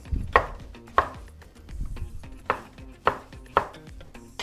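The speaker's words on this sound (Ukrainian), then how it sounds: "Відварену морквинку теж наріжемо." A knife chops boiled carrot into pieces on a cutting board: about six sharp, close chops at an uneven pace, with soft scraping between them and no talking.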